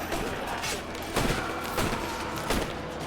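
Gunfire in the pirate-era game Assassin's Creed Black Flag during a chaotic fight, with repeated shots and thumps over a dense battle din, several sharper bursts standing out near and loud.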